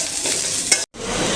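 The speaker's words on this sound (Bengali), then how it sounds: "আর আগে শাকটুক ভাজি করে নেব।" Leafy greens stir-fried in a pan make a loud, close, continuous sizzle and rustle, with one brief scrape and a momentary break partway through.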